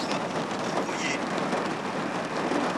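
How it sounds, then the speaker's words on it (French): Steady spring rain in Normandy hisses as a dense, even wash of falling drops, continuous and fairly loud with no talk. "Ça, attendez, on va voir la pluie."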